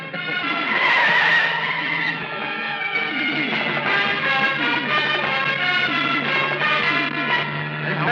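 A car skids and squeals as it swerves left during a chase scene in a 1990 Marathi comedy film, a loud, sustained tonal tire screech that wavers in pitch and carries on steadily for several seconds.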